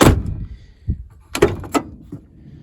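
A Chevy Silverado truck door with a freshly replaced and lubricated handle opens, giving a few close, distinct clicks and thumps of the latch and door, separated by quiet pauses.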